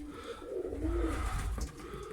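A pigeon coos in low, rolling murmurs, close and fairly loud, over a soft background rumble.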